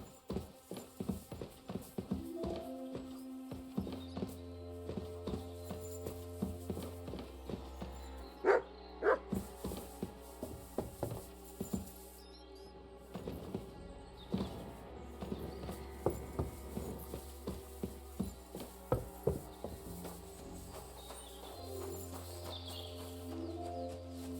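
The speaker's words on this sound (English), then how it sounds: "I think the horse is getting here." Hooves clip-clop in a steady rhythm as a horse approaches in Kingdom Come: Deliverance II gameplay, over low looping game music, with a few barks scattered through.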